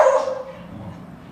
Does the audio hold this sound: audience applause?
no